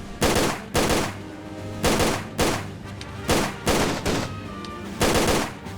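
Repeated loud gunfire in Tomb Raider: The Angel of Darkness, about seven heavy shots in an uneven rhythm across several seconds, each booming and ringing out, with no voices.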